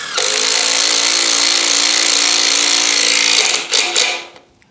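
An impact driver drives a screw into wood without a pre-drilled hole, hammering continuously for several seconds, loud and close, then stops with a few rattling clicks as it winds down.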